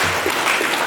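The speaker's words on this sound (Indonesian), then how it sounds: "Saya ingin tepuk tangan buat adik-adik saya." A short burst of dense clapping comes from an audience at a cultural lecture in Ubud, filling the moment loudly without any talk.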